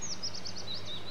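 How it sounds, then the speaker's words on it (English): Birds chirping on a sunny day in New York City, a quick series of high, thin tweets repeating in a steady rhythm over a low background hum. "the birds are chirping."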